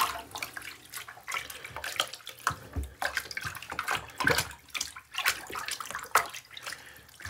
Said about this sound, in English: Just gonna get it wet. Move it around so that the soap can kind of squish through